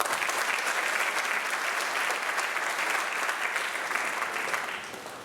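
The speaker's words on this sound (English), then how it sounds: "Please give these boys a round of applause." An audience at a high school athletic awards night in West Point-Beemer gives sustained, loud applause that fades slightly toward the end.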